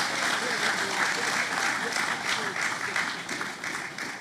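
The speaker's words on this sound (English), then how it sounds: "another round of applause for Premier Brantley" A congress hall audience at a DPM public session gives Premier Brantley a round of applause, a dense, even wash of clapping at moderate level.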